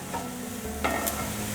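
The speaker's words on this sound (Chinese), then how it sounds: "继续翻炒" Shiitake mushrooms and lemongrass are stir-fried in a pan, a steady sizzle broken by a couple of sharp spatula scrapes, heard up close.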